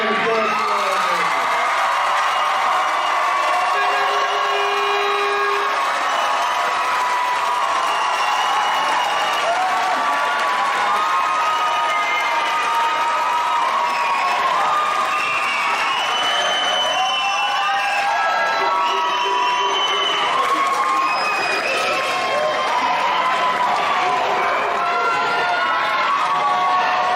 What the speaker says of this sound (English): let's give them one more big round of applause for our graduates.